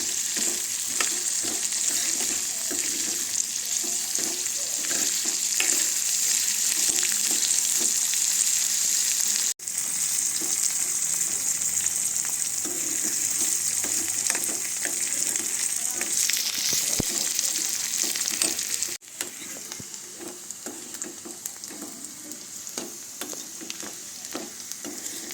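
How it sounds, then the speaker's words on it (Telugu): Pasta curry fries in a pan in a village-style kitchen, with a continuous bright sizzle and repeated scraping stir strokes running for a long stretch. "ఇప్పుడు బాగా కలుపుకోవాలండి. బాగా వేగాలండి."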